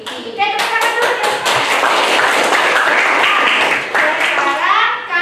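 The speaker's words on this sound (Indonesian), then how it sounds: "Oke, tepuk tangan dulu ya." A classroom of students breaks into lively group clapping, starting with a few sharp claps and swelling into a loud, dense patter, while children's voices chatter and call out over it.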